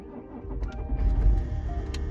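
A car engine cranks and catches, a low rumble swelling to a peak midway and then settling into a steady idle, close by with no talking.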